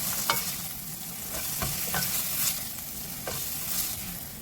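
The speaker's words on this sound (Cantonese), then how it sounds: "將帶子煎到兩邊金黃色" Scallops fry in a wok with a little oil, giving a close, steady sizzle broken by a few sharp clicks and scrapes. No voices are heard.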